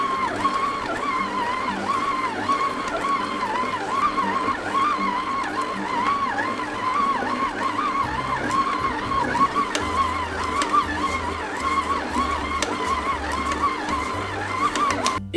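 A stand mixer kneads brioche dough at speed 2, a loud, steady motor drone with a rhythmic wobble that continues unbroken throughout.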